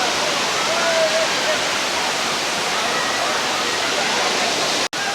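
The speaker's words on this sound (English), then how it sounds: "Okay, this is the view. The waterfall." A waterfall near Mangalore roars as a steady, loud, broadband rush that stays constant throughout, close and unbroken.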